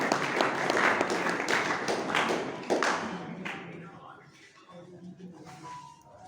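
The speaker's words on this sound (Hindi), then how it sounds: "जोरदार तालियों से स्वागत करें डॉक्टर संजय सर।" Students in a university hostel hall applauding to welcome a doctor as guest lecturer, dense clapping that gradually thins and dies away over several seconds.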